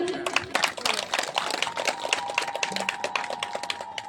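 Audience applause fills the room at an artists' association annual gathering in Telkoi, a dense run of many hands clapping at close range, with a voice audible in the background.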